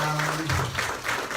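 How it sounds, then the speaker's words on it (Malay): Audience applause for Captain Ravi at a training event: a brief burst of mixed clapping, moderately loud, with a voice partly audible underneath. "kita bagi tepukan kepada Kapten Ravi"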